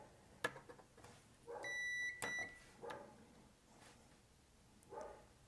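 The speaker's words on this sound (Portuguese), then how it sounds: "Vamos pôr a ponta vermelha no outro terra, ele vai apitar." A digital multimeter set to continuity mode, with both probes touching ground points, gives one steady electronic beep of about half a second amid faint clicks and handling noise in a quiet room.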